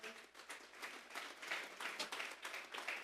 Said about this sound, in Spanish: Vamos a regalarle ofrenda de palmas